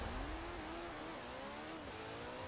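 A McLaren GTR race car engine in Forza Horizon 4 holds a steady, sustained drone with a wavering pitch that rises and dips slightly, heard close and continuous with no talking.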